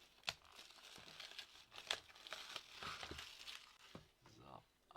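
An MP3 player is unpacked, with plastic packaging crinkling and rustling close by. Sharp crackles come in bursts while a person talks over the handling.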